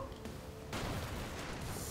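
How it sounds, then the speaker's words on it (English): Rocket barrage explosions in the side-scrolling action game Broforce, a dense roaring burst of blasts that kicks in abruptly partway through and stays loud and continuous to the end. "Rocket barrage!"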